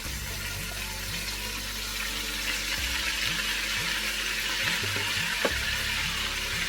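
Hamburger meat sizzling in a pot for cheeseburger soup, a steady broad hiss and crackle filling the whole stretch with faint low clunks underneath, close and continuous with no talk.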